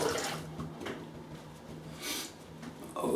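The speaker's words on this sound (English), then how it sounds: "Okay, I'll just rinse off and I'll come back." Tap water runs and splashes steadily into a sink while someone rinses off after a shave, a close, wet hiss with a few louder splashes and no talk.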